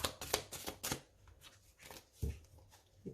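Lenormand oracle cards are shuffled in a quick series of soft, papery riffles and slaps, close and faint, with short pauses between bursts.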